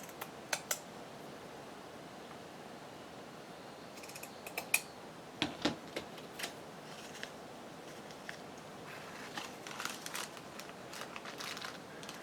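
Burlap being cut for a craft pouch, scattered crisp snips and crinkling fabric rustle, close and fairly quiet with irregular bursts and no talking.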